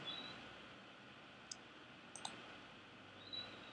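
Several faint, sharp mouse clicks on a computer during form saving, a single click and then a quick pair, set against quiet room hiss.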